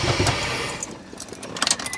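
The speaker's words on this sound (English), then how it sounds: "It's not firing all cylinders." A Corvette C4 ZR-1 barn-find engine running rough and misfiring, not firing on all cylinders, a close uneven broadband roar that fades midway before a few sharp bursts return near the end.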